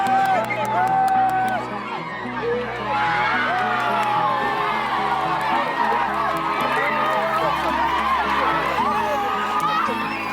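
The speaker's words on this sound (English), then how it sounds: "Every run sends the entire Kenyan crowd into a frenzy." A crowd of more than sixty Kenyan children supporting their team at an under-15 baseball World Cup qualifier cheers, shouts and whoops steadily, a dense, loud, continuous roar with excited voices layered throughout.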